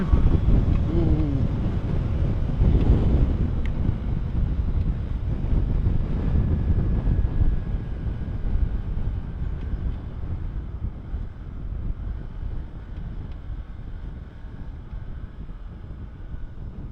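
Heavy wind roar buffets the microphone while riding a Lexmoto ZSB 125 motorcycle into a headwind on the road, a loud continuous low rumble with engine drone beneath, easing slightly toward the end.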